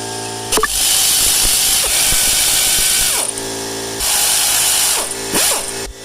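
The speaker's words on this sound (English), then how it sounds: "I'm going to remove all three bolts on both sides" A power tool removes the front strut bolts on a Toyota Corolla iM. It whirs loudly in long sustained bursts, with short pauses and a ratcheting pitch dip as each run winds down, and no talking.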